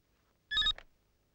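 Telephone giving a single short electronic ring burst against near silence, clear and close.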